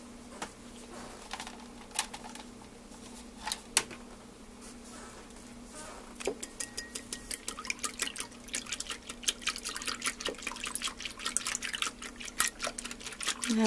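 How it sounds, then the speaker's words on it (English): Eggs for pancake batter are whisked in a bowl, giving a steady run of quick clicking taps that grows busier and louder over time, close by with no talk. "I'm going to use a whisk to mix this well."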